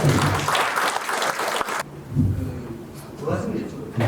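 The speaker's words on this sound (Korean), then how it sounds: "우리 전재수 의원께 마지막 큰 박수 부탁드립니다" A large audience at a public policy debate forum in Busan gives a lawmaker a loud closing round of applause, which breaks off abruptly partway through, followed by quieter room noise and talk.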